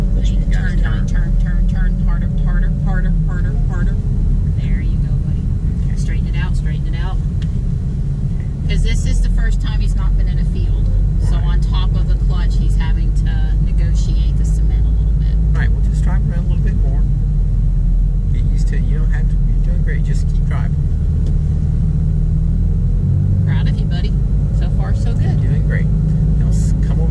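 A manual-transmission Tesla Ruby car driven slowly around an empty field, its steady engine rumble running throughout with intermittent clicks and knocks, while people talk over it close by.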